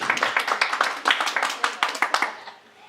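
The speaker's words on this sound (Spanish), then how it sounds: "Den un aplauso aquí a mi amada." An audience breaks into brisk applause at a Christian worship gathering, dense rapid clapping from a group that carries on for a couple of seconds before thinning and fading out at the end.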